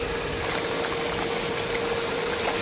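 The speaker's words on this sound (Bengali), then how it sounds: "ফুটে যাচ্ছে, একটু ফুটলে আমি নামিয়ে দেবো।" Pabda fish curry, macher jhol, boils in a pan on the stove with a steady low bubbling hiss and gentle simmering, continuous and close, no talking.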